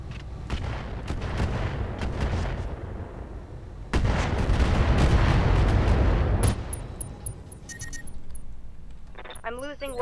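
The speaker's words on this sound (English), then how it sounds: "Here comes those rockets." Incoming rocket fire in the mech combat game Roguetech: a dense barrage of booming impacts and rumbling blasts, loudest in a sustained burst midway, with a voice talking over the battle noise and sharp electronic tones near the end.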